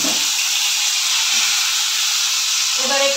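Papaya and potato pieces frying in hot oil with black cumin seeds, giving a loud, steady sizzling hiss that fills the whole stretch, with faint clatter near the end.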